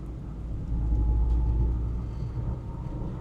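Low, steady engine rumble from a manual-transmission car being driven at light throttle, swelling slightly then holding even throughout, with no voices.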